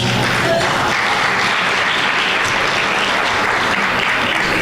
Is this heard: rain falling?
no